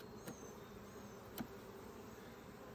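Honeybees hum steadily in and around an open hive during an inspection, a faint continuous buzz with a couple of brief louder passes, no talking.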